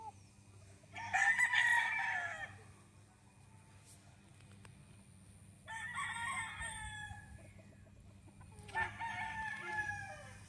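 Young gamecock stags crow in three separate, fairly loud calls a few seconds apart, close by, over a low steady background hum.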